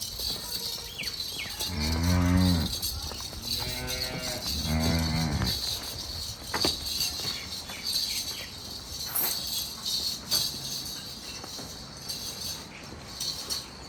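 A freshly calved cow moos three times in quick succession, deep drawn-out calls up close, then a quieter stretch with faint insect chirps and background hum.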